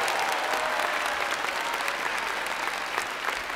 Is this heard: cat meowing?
no